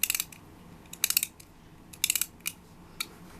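Clockwork Minic toy racing car being wound up by its key, giving short bursts of crisp ratcheting clicks in quick clusters about once a second, close and fairly quiet.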